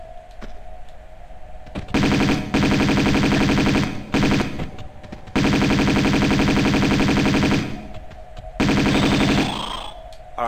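Uzi fire in Tomb Raider II, loud rapid automatic bursts lasting a second or more each, separated by short pauses and a repeating in-game tone, with no speech.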